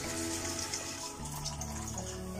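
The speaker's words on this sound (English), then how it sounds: "soak it with water," Water is poured or run into a container to soak dried wood fungus for red-braised pork belly, giving a brief, steady splashing trickle.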